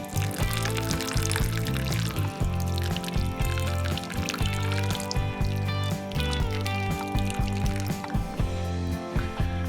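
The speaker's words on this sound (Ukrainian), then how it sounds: "Ось їх залив водою" Water poured steadily over walnuts buried in sand in a container, a continuous loud splashing and gurgling pour running the whole time with no talk.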